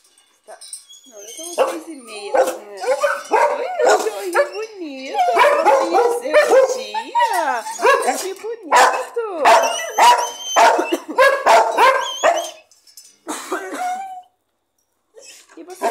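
Several puppies bark and yip in quick, high-pitched bursts close by at six in the morning, some whimpering between barks, for most of the stretch before trailing off.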